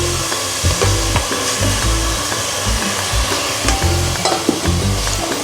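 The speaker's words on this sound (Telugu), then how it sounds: "ఆనియన్స్, టమాటా ముక్కలు వేస్తున్నానండి." Onion and tomato pieces cook in a dry pan with no oil for a chicken curry, giving a steady close sizzle broken by repeated scraping and stirring strokes throughout.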